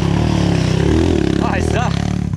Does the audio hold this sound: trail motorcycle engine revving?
yes